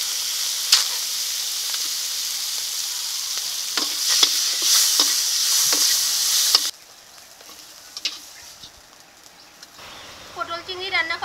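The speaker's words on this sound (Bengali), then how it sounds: "এই তেলে চিংড়ি মাছগুলো ভেজে নেব।" Prawns frying in mustard oil in a kadai, a loud steady sizzle for several seconds that drops to a quieter hiss with occasional stirring clinks and a voice speaking near the end.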